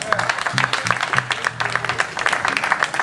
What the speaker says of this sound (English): Give the crew a round of applause,